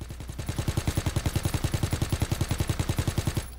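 Rapid automatic gunfire at close range in the World War II shooter Call of Duty WW2, a steady burst of about thirty evenly spaced loud shots lasting over three seconds before stopping abruptly.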